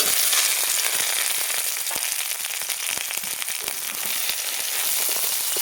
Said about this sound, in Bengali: মরিচটাকে লাল লাল করে ভেজে নেব